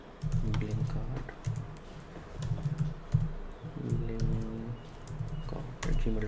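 Typing on a computer keyboard while entering a Gmail email address: a steady run of quick, close key clicks and taps in uneven bursts throughout, with no talking.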